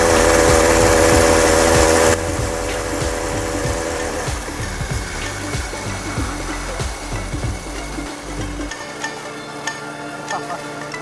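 A small brush cutter engine fitted to a homemade mini bike runs with a loud, buzzy, high-pitched drone, close by, settling to a rougher uneven running note before cutting off near the end.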